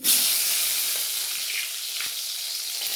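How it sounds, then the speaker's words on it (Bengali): Pointed gourds frying in hot mustard oil, a loud close continuous sizzle and crackle of hot oil, steady throughout with slight swells and occasional soft pops, no voices. "তেলটা আমার গরম হয়ে গেছে, আমি পটলগুলো তুলে দিচ্ছি।"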